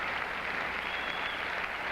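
A tennis crowd applauds Ilie Nastase during a match: a steady, even wash of clapping from many hands, fairly distant, holding at one level throughout without any voices.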